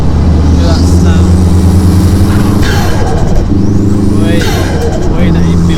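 A home-built, tuned Audi A3 1.8T turbo engine pulls hard, its loud steady drone climbing in pitch as boost builds, easing and rising again with gear changes, with turbo whistle and spool noise on top and talk over it.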